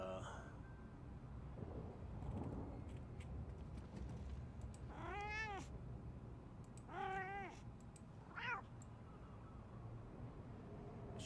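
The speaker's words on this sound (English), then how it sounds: "Why did I just hear a cat?" A cat meows three times in a video game, mid-distance, with clear rising-falling calls spaced a couple of seconds apart over a steady low background hum and some soft talk.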